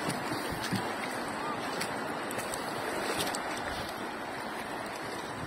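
Steady rushing wash of rough sea waves with wind around a small boat, continuous and moderately loud, with faint knocks and splashes now and then.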